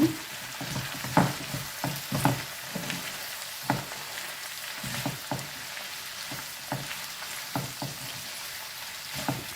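Pirandai (veldt grape) and curry leaves with their stems frying together in a pan for thuvaiyal, a steady sizzle with repeated scraping stirs of a spatula, near and fairly loud, without talk.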